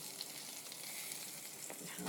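Eggs sizzle and crackle in a hot pan, a steady frying hiss with small pops, close and fairly quiet.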